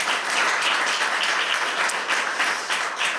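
Applause from the audience at a political party's general assembly, steady and dense clapping from many hands throughout, fairly close and with no talking over it.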